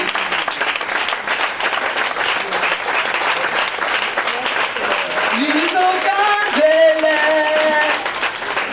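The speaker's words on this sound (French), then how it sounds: "On va acclamer le Seigneur en se tenant debout." A standing church congregation applauds the Lord in a sustained, loud wash of clapping, with voices and a rising musical tone joining toward the end.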